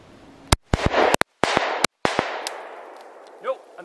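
A TriStar Viper G2 20 gauge semi-automatic shotgun, still needing break-in, fires a rapid string of loud, sharp shots from cheap Walmart shells outdoors, each blast trailing into a ringing echo that fades away.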